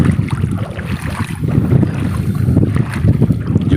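A fiberglass fishing boat on rough, windy morning sea, with loud, buffeting wind on the microphone and churning water and hull noise throughout.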